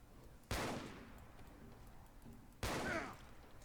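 Two loud hunting rifle shots in the video game Fallout 4, each a sharp crack with a rolling tail, spaced about two seconds apart and heard alone.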